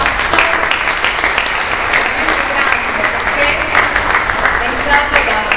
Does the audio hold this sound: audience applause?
yes